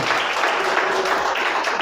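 A church congregation applauds, a dense continuous wash of many hands clapping at once, fairly loud and close, with no voices over it.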